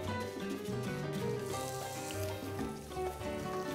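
Chicken sizzles steadily as it cooks in a pan for an oriental broth, with a continuous frying hiss over a tonal background layer throughout.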